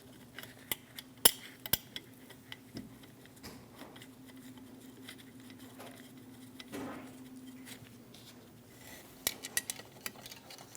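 Metal bolts rattle and click as they are fitted to the starter of a 2001-2006 Chevrolet Silverado 2500 HD with an 8.1L V8. Sparse sharp ticks and taps over a faint hum, with a cluster of clicks near the end.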